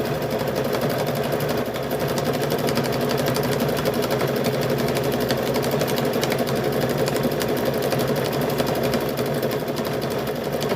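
A sewing machine stitches a car seat cover in a fast, continuous mechanical whir and rattle, steady and close for the whole stretch with no talking.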